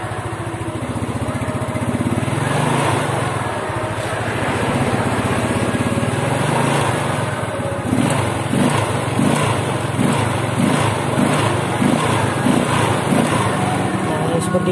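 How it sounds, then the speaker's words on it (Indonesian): A Yamaha Mio scooter engine with a sputtering initial-throttle fault runs steadily close by, its loud continuous buzz rising into a few uneven revs in the second half. "Kita dengarkan untuk gas awalannya ya teman-teman."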